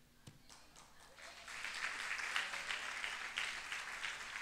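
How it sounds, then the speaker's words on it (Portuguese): A church congregation bursts into applause during a Bible study session, starting faint with an isolated clap and swelling into steady, moderately distant clapping. "Quem quer aplaudir mais forte?"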